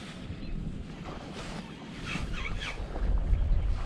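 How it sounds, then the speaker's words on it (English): Wind rising over open water during pike fishing, a steady rushing buffet with low rumble against the microphone, growing louder toward the end. "Feel the wind starting to pick up already."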